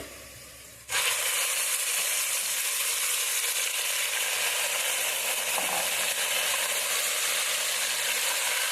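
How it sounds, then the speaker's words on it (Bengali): A whole goat head, coated in spice paste, dropped into a hot pan and frying, a sudden burst into a loud, dense, unbroken sizzle that holds steady to the end, no talking. "এখন আমি মাথাটাকে দিয়ে দেব দিয়ে ভালো করে কষিয়ে দেব"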